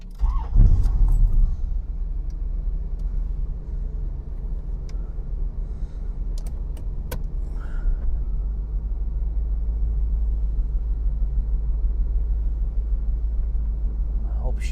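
A Corvette project car runs and drives, its engine and road rumble a steady low drone throughout, with a brief jingle of keys and a couple of clicks near the start.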